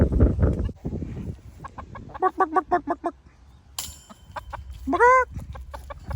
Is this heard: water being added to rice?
no